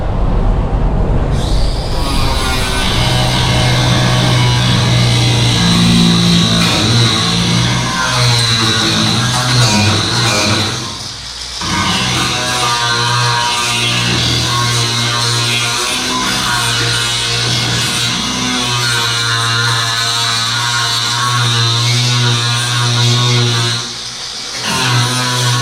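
An angle grinder grinds paint off metal in a loud, continuous roar with a steady whine, dipping briefly twice before resuming at full strength.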